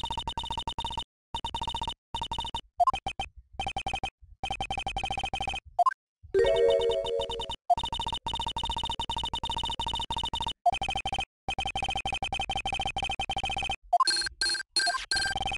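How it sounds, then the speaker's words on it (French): A mobile phone rings in a Phoenix Wright: Ace Attorney – Justice for All game scene, a steady electronic ringtone repeating for many seconds in choppy bursts with brief gaps. "Je sais, c'est mon téléphone, on s'en fout."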